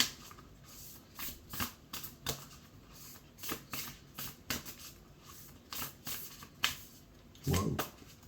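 Tarot cards riffled and shuffled in quick bursts, crisp flapping clicks close by, with a few short pauses between shuffles.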